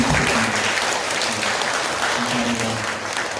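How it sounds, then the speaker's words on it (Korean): A church congregation at a Sunday service gives a full round of welcoming applause, loud and continuous, with faint voices murmuring beneath the clapping. "환영의 박수 한번 드리겠습니다"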